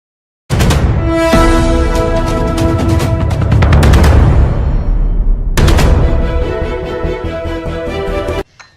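Bursts of gunfire crack through war footage from the Israel–Hamas conflict in Gaza: rapid volleys of sharp shots, loud and close, a pause around the middle, then another sustained burst before abruptly stopping.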